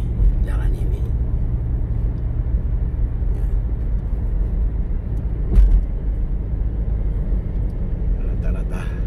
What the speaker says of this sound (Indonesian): saudara bisa melihat bahwa hanya cuma 1-2 kendaraan yang lewat di jalan ini